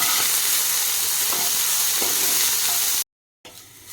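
Sliced onions fry in a pan for a jhudunga and potato dish, giving a steady, loud broadband sizzle with faint stirring scrapes, broken by a brief cut to silence before a quieter sizzle returns.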